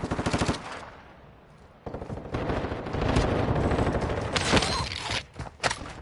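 Automatic weapon fire in the shooter game Warzone 2: loud rapid bursts of gunfire, a short burst at the start, then a long sustained stretch of shots with scattered louder cracks near the end.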